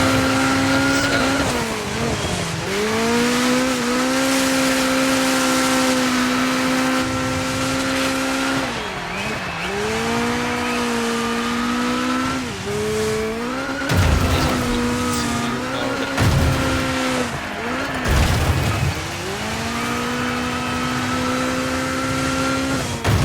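Rear-wheel drive race car in Dirt 5 holds a loud, steady engine drone that climbs and drops through repeated gear shifts and lifts, with brief tire squeal and skidding bursts, no talking.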